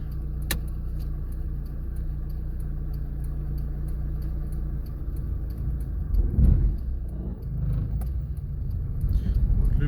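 A car engine idles low, then strains and rises under load as it pulls away on an uphill start during a driving lesson, while a person talks over it.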